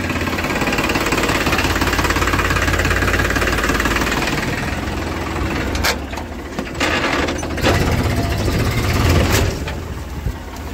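Tractor engine running in a farm field, a loud continuous knocking diesel chug with rattling, briefly dipping and clattering before carrying on.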